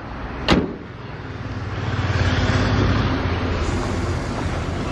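A single sharp thud of a 2011 Fiat Linea Absolute 1.8 Flex sedan's door shutting, followed by a steady low hum of the engine or surroundings.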